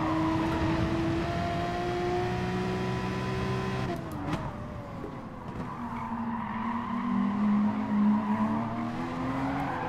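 A race car in Gran Turismo Sport oversteers and slides through a corner during an FIA online race, with a droning engine, a brief sharp knock, then squealing tires as the revs fall and climb again.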